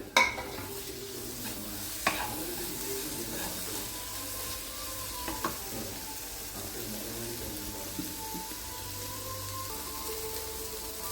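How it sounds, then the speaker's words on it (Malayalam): Chopped tomatoes and onions sauté in a pan for a chicken dish, giving a quiet sizzle with occasional spoon scrapes and clinks against the pan, sparse and low in level. "തക്കാളിയും കൂട്ടിയിട്ട് നന്നായിട്ട് നമുക്കിത് വഴറ്റിയെടുക്കണം"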